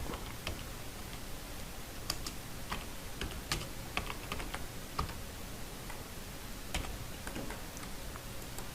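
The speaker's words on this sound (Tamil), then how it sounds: "இங்கே நான் கல்யாண சுந்தரம்னு ஒரு பேரை டைப் பண்ணுறேன்." A name typed on a computer keyboard for an Excel spreadsheet, quick irregular key clicks tapping steadily at close range with no talking.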